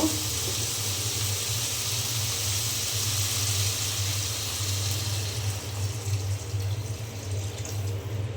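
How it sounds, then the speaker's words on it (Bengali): Water poured into a hot pan of fried spices for an egg and cauliflower curry gives a loud, continuous rushing sizzle that holds steady, then grows rougher and uneven toward the end. "এখন আমি পানি দিয়ে দেব"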